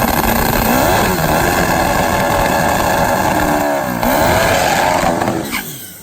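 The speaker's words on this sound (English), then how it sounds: "It's a Hayabusa with electronic fuel injection, fuel technology." Turbocharged Suzuki Hayabusa drag motorcycle with electronic fuel injection and a 4-speed gearbox, engine revving hard and loud close by, pitch sweeping up and down through several rising pulls before fading at the end.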